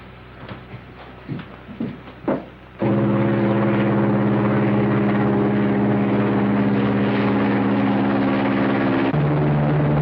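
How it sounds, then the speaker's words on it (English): A light propeller plane engine droning loud and steady after a few faint knocks, its tone shifting lower near the end, heard from an old 1940s bush pilot film. "Perhaps he's taken the light plane up for a little spin to try something out."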